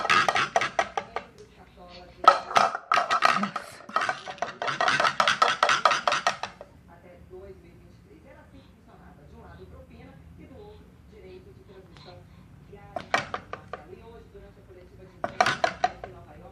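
An eight-month-old baby bangs and plays with a metal cooking pot, making bursts of loud clattering knocks and clanks that come in clusters, then fall quiet before two short rattling flurries, with soft background room noise.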